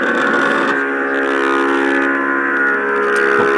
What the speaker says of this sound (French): c'est un bruit de sirène